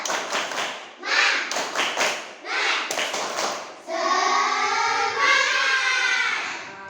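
Classroom of pupils performing a rhythmic spirit clap, bursts of unison hand claps in a patterned beat, followed by children chanting together in a group.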